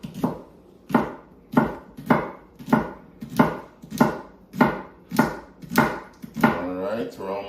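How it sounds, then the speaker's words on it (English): Vegetables such as celery chopped with a knife on a cutting board, about ten steady evenly spaced thuds, close and clear, with no one speaking. "cut them as evenly and as little as possible"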